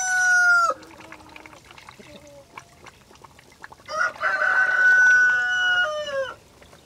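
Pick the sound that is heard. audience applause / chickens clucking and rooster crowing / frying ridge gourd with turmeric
chickens clucking and rooster crowing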